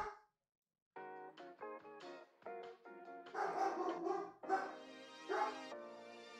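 Dogs bark in the background in a rapid, uneven string of yips and barks that grows louder toward the end after a brief quiet start.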